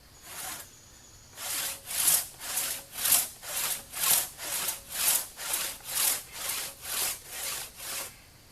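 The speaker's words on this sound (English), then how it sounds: "Now I did manage to cut it off." A one-man crosscut saw cuts through wood in steady, regular strokes, about a dozen rhythmic rasping pushes and pulls after a brief opening stroke and pause, close and fairly loud with no talk.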